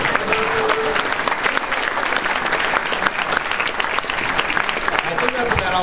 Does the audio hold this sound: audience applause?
yes